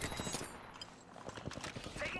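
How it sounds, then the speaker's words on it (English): Gunfire during an Apex Legends match, a dense burst of rapid shots and impacts close up, with a voice talking faintly underneath. "Taking fire."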